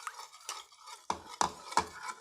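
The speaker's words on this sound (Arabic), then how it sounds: "هنقلب بقى المكونات كلها بالعسل الاسود بالشكل ده" A spoon stirs ingredients through thick black molasses in a bowl: soft sticky swishes followed by three sharp clinks of metal against the dish, close and quiet with no talk.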